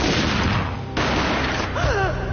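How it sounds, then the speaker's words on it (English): Gunshot boom in the Max Payne video game, a loud blast with heavy rumbling tail, followed by a second crack and whistling tonal effects near the end. "A gunshot boomed and she fell down in slow motion"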